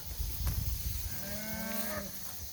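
A calf or cattle on a brushy pasture of love grass and Lespedeza gives one clear, drawn-out moo, close and loud over a low rustling background, with no talking.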